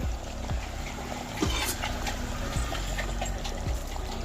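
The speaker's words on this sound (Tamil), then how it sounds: "லெமன் சாறு கொஞ்சோன்னு கொஞ்சமாக ஊற்றுறேன்" Lemon juice poured little by little into a simmering mutton curry (mutton kulambu), giving a steady close trickle and dribble of liquid over low kitchen background noise, with faint periodic thumps.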